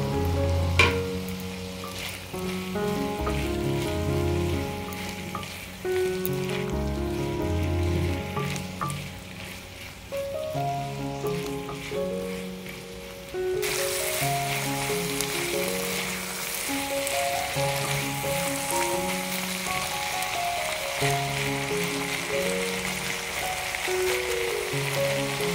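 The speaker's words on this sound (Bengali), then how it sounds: "এখন আমি কয়েক কুচি টমেটো অ্যাড করলাম।" Chopped tomatoes frying with bottle gourd in a pan for a lau chingri shutki dish, a continuous close sizzle with occasional stirring clinks that jumps suddenly louder and hissier partway through, with no voices.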